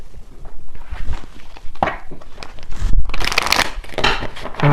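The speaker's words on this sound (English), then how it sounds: "So let me grab a few oracle cards here." Oracle cards are handled and shuffled close by, with soft papery riffles and slaps in uneven bursts, a few louder shuffles toward the end, and no talking over them.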